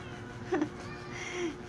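Short, faint meow from a cat indoors, a couple of brief cries against a quiet background.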